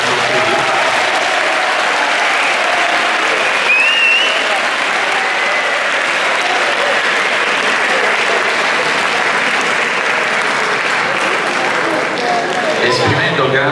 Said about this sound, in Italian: vorrei che facessimo tutti un grande applauso ai docenti che oggi vi